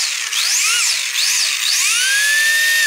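An RC drift car's electric motor revs at high RPM, a loud whining tone rising and falling in quick repeated bursts before holding a sustained high pitch.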